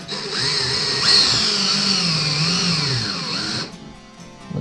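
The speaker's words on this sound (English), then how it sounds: "3/16 drill bit. Drill those out." Power drill with a 3/16 drill bit whines steadily while boring holes in a wall for a thermostat install, its pitch wavering under load for several seconds before cutting off abruptly.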